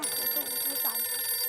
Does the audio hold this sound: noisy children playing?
no